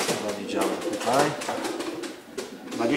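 Racing pigeons coo close by, a few birds' low throaty rolling calls overlapping steadily.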